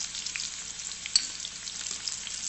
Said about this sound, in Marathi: आता मोहरी तडतडली आहे, मी त्यात घालते एक बारीक चिरलेली हिरवी मिरची, एक कांदा मी बारीक चिरून घेतला